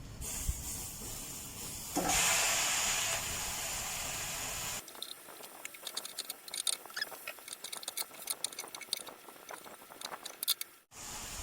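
Chiang Da greens stir-fry in a pan with oyster sauce, green-cap seasoning sauce, krachai, chili and garlic, cooked without oil: a loud burst of hiss as the food hits the hot pan, then a long run of quieter crackling and patter, close by.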